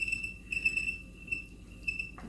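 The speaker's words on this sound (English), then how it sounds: "trying to get the spinning wheel to go in the right direction" A spinning wheel turns with a soft, rhythmic low thumping and a steady, thin, high squeaky whine running over it. It sounds close and fairly quiet, with no voices.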